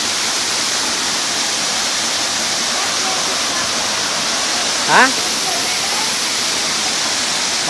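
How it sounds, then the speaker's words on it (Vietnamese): A waterfall at a mountain stream roars steadily and loudly throughout, a dense unbroken rush, with one brief voice calling out near the end. "Để sang bên thác này nào."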